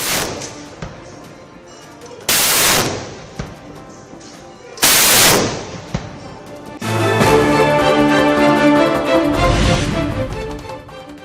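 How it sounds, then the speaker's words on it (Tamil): Army artillery cannons fire together in a rehearsal, two sharp booming blasts a few seconds apart followed by a longer rumbling burst, loud and close with a layer of music underneath. "பீரங்கிகளிலிருந்து ஒரே நேரத்தில் குண்டுகளை வெடிக்க வைத்து ஒத்திகை."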